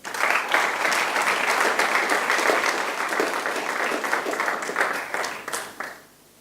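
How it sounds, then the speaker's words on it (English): Audience applause for a speaker at an evening talk, a full, steady burst of clapping that holds for several seconds and then dies away. "Ladies and gentlemen, please a round of applause for John Ivett."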